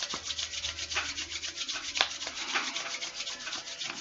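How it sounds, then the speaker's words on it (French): Hands being rubbed briskly together during a self-massage, producing a close, soft, rhythmic swishing friction in quick repeated strokes with no talk over it. "Je frotte de nouveau mes mains"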